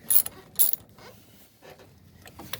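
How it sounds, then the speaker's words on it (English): A wrench tightens the positive battery terminal clamp on a 2008 Ford E-350, giving a few quiet, sharp ratchet clicks in short bursts with faint scraping metal in between, close and otherwise quiet. "we're gonna tighten down. The positive terminal, remember, righty tighty, lefty loosey."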